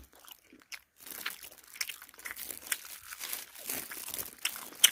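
Someone eats crunchy Lotteria chicken nuggets up close, with a series of irregular crisp bites and chewing crunches, interspersed with soft crinkling, quiet and intimate throughout.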